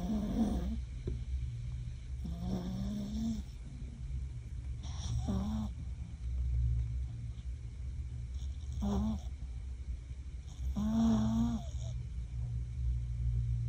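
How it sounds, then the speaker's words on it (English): A small dog snores while curled up inside a soft carrier, giving slow, steady low snoring breaths that repeat every few seconds, close and fairly quiet over a constant low background hum. "I'll insert a footage right now of her snoring in it."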